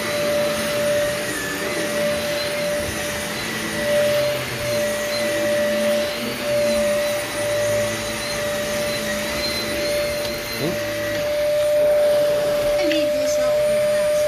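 A vacuum cleaner runs steadily on carpet during a heavy cat urine cleaning job, a loud continuous whine with a sustained tone and brief shifts in pitch, with people talking faintly beneath it.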